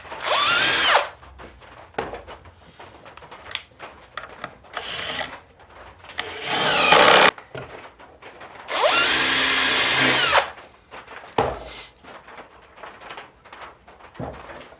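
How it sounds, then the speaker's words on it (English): A power drill whirs in several bursts of varying length while pre-drilling yellow pine, separated by short pauses with small handling clatter. "I would suggest pre-drilling everything, because it will move on you"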